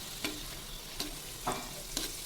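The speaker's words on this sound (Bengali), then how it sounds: "আমি চাক চাক করে আগে আলু কেটে রেখেছি সেই আলুটা ভেজে নিচ্ছি" Chunks of potato frying in a pan, a continuous quiet sizzle broken by four evenly spaced scraping stirs of the spatula, close by with no voices.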